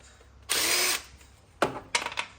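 A power tool loosening cam bolts on an LS engine in a truck: a half-second burst of whirring at close range, a pause, then two shorter stuttering bursts.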